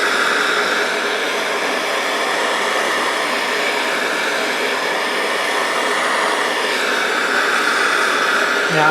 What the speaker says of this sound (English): Now I'm just trying to heat up the knuckle itself, not the Arbor.